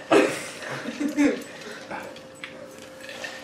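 Dogs whimper and yip in short, high bursts while people talk over them nearby, part of a household scene with a box being opened.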